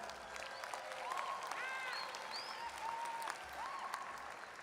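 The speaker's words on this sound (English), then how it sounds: "Applause to the parents." Steady, sustained applause from a commencement ceremony audience, a dense wash of clapping that holds at an even level throughout, with faint whistles rising above it.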